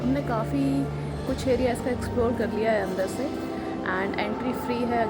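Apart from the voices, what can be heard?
No everyday noises stand out.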